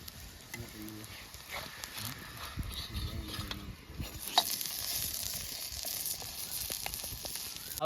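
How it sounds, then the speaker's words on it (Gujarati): A stuffed jamun paratha frying in a pan, giving a soft continuous sizzle with light scraping and stirring noises, faint and close, with occasional low voices in the background. "હવે આપણે એને તળી નાખશું."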